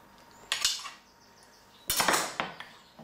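Blunt edge of a knife scraping excess topping off chorizo, ham and tomato tapas, two bright metallic scrapes against a dish or board, close and crisp, separated by a short pause, with no voices.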